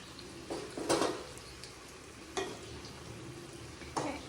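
Chili powder fries in oil for a fish curry, a faint low sizzle with a few soft scraping stirs spaced a second or two apart, with no voices.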